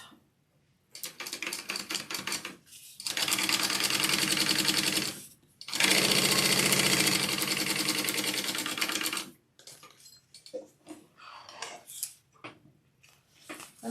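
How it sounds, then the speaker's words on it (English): A sewing machine bastes the top of a fabric bag in long, steady runs of rapid stitching, close and loud, broken by brief pauses and some light handling of the fabric between passes. "all we have to do is baste this top together"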